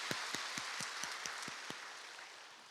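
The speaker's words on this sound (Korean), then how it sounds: "우리 마음을 담아 큰 박수로 환영하겠습니다" A church congregation claps in welcome for new members, a quick run of distinct claps fading into a soft roomy wash over nearly three seconds.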